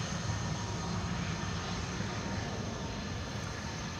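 Airliner on the Polderbaan runway at Amsterdam Schiphol rolling out after a crosswind landing, its engines giving a brief late reverse-thrust spool-up, heard as a steady broad roar with low rumble throughout, no talk.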